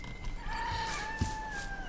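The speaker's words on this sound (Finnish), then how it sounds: "Ja kukkokin sillä huutelee" Rooster crowing in the fishing game Russian Fishing 4, a drawn-out crow over steady outdoor ambience by a bridge, moderately faint and not in the foreground.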